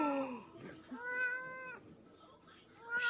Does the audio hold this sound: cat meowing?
yes